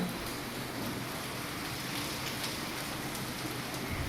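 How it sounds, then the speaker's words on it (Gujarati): Monsoon rain falls steadily onto surfaces outdoors, an even, continuous patter and hiss that holds at a constant level throughout with no voices. "અત્યારે વરસાદ આવી રહ્યો છે"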